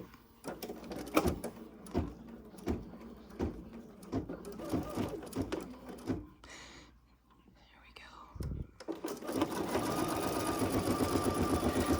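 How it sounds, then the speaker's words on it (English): An embroidery sewing machine in the hoop stitches a placement line for fold over elastic on a mini notebook cover, a rapid rhythmic run of needle taps, pausing midway, then resuming as a steady whirring hum; a soft voice speaks during the first part. "we're going to stitch just the placement for this fold over elastic"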